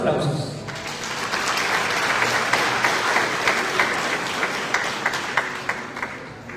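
Sustained audience applause at a graduation ceremony fills a large hall, steady dense clapping throughout with a voice speaking over it at the start.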